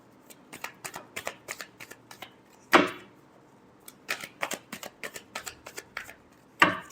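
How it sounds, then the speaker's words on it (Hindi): Tarot cards shuffled by hand during a reading, giving a series of quick crisp riffling bursts with two louder full riffles, close and clear with no talking. "Last shuffle."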